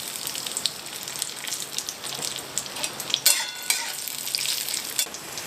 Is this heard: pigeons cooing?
no